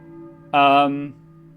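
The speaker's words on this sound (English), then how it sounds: "I hear a church bell, I think, but who is ringing it?" A church bell rings once in the Silent Hill video game, a single bright, resonant strike that lingers briefly over a steady low ambient hum.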